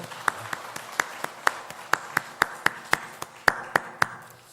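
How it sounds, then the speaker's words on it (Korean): A church congregation applauds in thanksgiving during a worship service, a sharp rhythmic run of about fifteen evenly spaced claps that sounds like a single close pair of hands keeping time. "우리 다시 한번 하나님 앞에 감사의 박수를 올려드리고"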